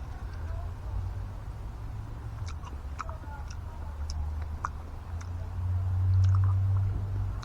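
Someone chews a bite of homegrown melon grown in a pot, with soft, irregular wet clicks and crunches close by over a low steady background hum.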